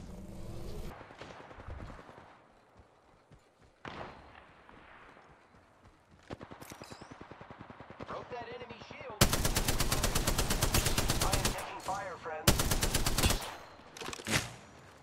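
Gunfire in the battle royale game Apex Legends, from scattered single shots to long, loud, rapid machine-gun bursts near the end, with brief voice lines in between.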